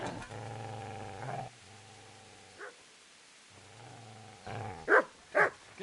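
A dog growls in a low sustained rumble, pauses, growls again, then lets out two sharp, loud barks close by near the end.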